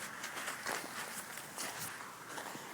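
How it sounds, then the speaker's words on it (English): Footsteps tread through slushy, wet snow: a short run of close, soft, muffled squelching steps at a steady walking pace, heard alone. "And this is the sound of slushy snow."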